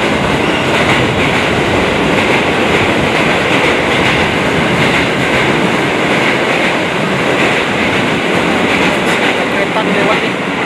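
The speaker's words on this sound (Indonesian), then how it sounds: "Kereta lewat nih." A KRL commuter train bound for Manggarai, Jakarta, rumbles past close by, a loud, steady roar of wheels and rails with rhythmic clatter that fills the whole stretch.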